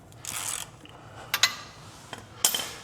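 A 17 mm wrench ratchets and scrapes on a drain bolt of a Kubota B2650 tractor, giving short close metallic clicks and rubbing bursts in an irregular rhythm.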